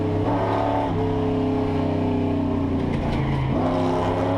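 Historic touring race car lapping the top of the mountain at Bathurst, its engine droning steadily and loud close by, the pitch sliding up and down as it lifts and drifts through the corners, with no talk.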